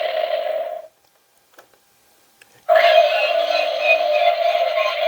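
A Micro Galaxy Squadron Millennium Falcon toy plays an electronic sound effect, a buzzy tone that cuts out, followed by near silence with a few faint clicks, then a louder sustained electronic hum.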